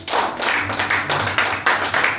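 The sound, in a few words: church congregation applauding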